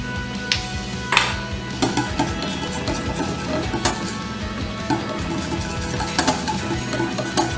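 Dhokla batter being whisked in a bowl, with repeated soft scraping strokes and light clinks of the whisk against the bowl, close and fairly quiet throughout.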